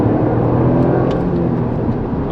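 A 2024 Toyota GR Yaris sports car engine hums steadily at close range, a continuous low rumble with a faint whir, no sharp revving.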